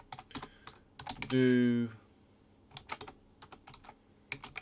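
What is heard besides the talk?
typing code on a computer keyboard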